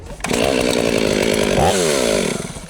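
A powerful chainsaw at a forestry trade fair runs loud and close with a rasping, buzzing engine note, and its pitch dips and rises briefly midway before it eases off.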